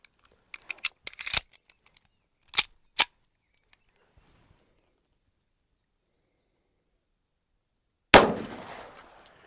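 A pistol firing reloaded .45 ACP ammunition: one sharp, loud gunshot with a short ringing tail, preceded by faint metallic clicks and handling noises in near silence.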